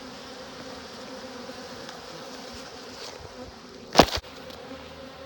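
Honeybee swarm with insects buzzing faintly and steadily throughout, close by and low in level, with one short sharp louder burst near the end.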